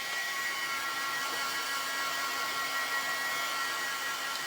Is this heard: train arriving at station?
no